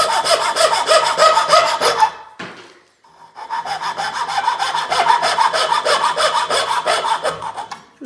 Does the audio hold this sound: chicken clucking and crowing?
no